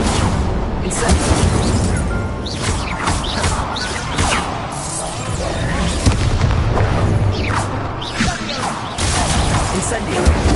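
Rapid fire spells cast in Hogwarts Legacy, a dense stream of booming bursts, whooshes and crackling impacts filling the whole stretch, loud and continuous with a player shouting over the top.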